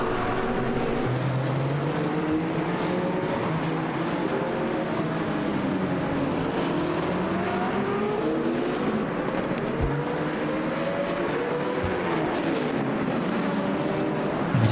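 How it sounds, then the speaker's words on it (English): High-revving Alpine hybrid race car engines in a racing simulator at Lusail whine continuously, pitch rising and falling with gear changes, loud and steady with no talking. "Just hear again that whine of the Alpine engine and obviously hybrid unit."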